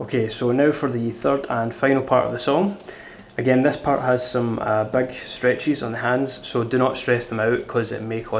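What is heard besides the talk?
No everyday noise stands out behind the speech.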